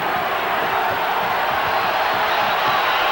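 A basketball arena crowd of 15,500 at Carver-Hawkeye Arena roars steadily through the whole stretch, a dense, loud wash of cheering with no breaks.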